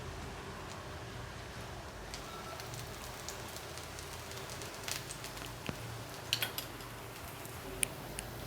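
Egg dosa cooks in a little oil on a hot pan, giving a steady, quiet sizzle and crackle with scattered faint ticks and clinks of utensils.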